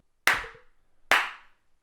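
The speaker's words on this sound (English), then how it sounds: "Look at them claps" Two sharp, close hand claps about a second apart, each ringing briefly before cutting to silence.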